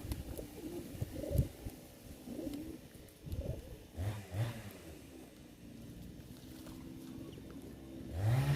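Pigeons coo softly in low, rolling bursts during a winter bath, with gentle splashing and rustling between calls at close range.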